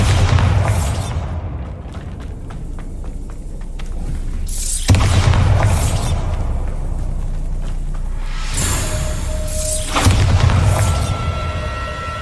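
Repeated Bombarda blasting spell explosions in the Hogwarts Legacy video game: four heavy booms spaced several seconds apart, each with a rumbling tail and crackling debris, and a sustained tone near the end.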